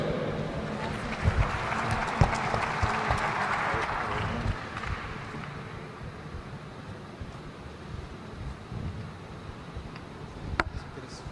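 Audience applause at a potato industry congress conference, a broad wash of clapping that swells early and then tapers off, with scattered sharper claps near the end.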